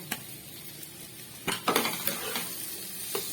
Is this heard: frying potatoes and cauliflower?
yes